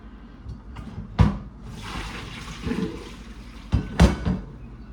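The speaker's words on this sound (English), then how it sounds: "I am going to dump the water out the pot." Hot water is dumped from a cooking pot into a kitchen sink, giving a gushing, splashing rush with a couple of sharp clanks of the pot against the sink.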